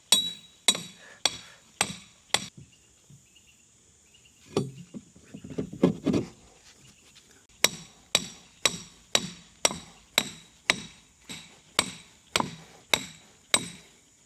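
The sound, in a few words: hammering 3/4 inch rebar into 6x6 timbers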